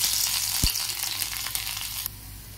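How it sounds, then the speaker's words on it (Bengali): Crushed garlic sizzles steadily in hot oil in a wok, a continuous bright frying hiss with a soft knock near the start and a few brief crackles, heard alone at moderate loudness. "কড়াইয়ে তেলটা গরম হয়ে গেছে। এরপরে থেতো করা রসুনগুলো প্রথমে দিয়ে দেব।"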